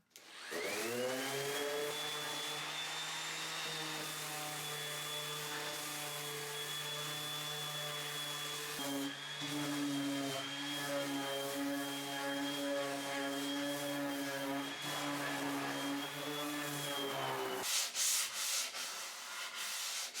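A power sander grinds steadily across a solid pine 1970s desk to strip its lacquer, a loud continuous whine with a brief pause midway and no talking.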